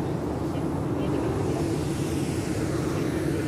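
A steady, droning airplane engine roars continuously, loud and close, with a faint voice somewhere beneath the hum.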